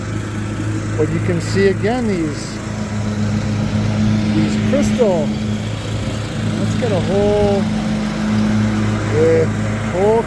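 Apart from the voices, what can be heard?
lawn mower running nearby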